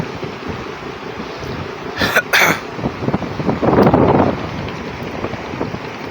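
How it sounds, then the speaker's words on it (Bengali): Gusty wind buffeting the microphone over a low rumbling wash of water, as a vessel moves steadily; a brief bump interrupts midway. "আমাদের জাহাজ এখন চলতেছে"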